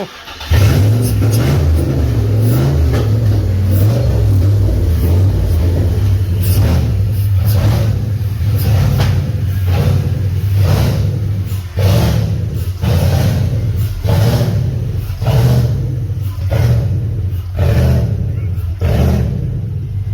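Cadillac engine with a new camshaft and its airflow sensor unplugged, idling with a rough lope and blipped repeatedly in sharp revs, loud and close, with talk in between.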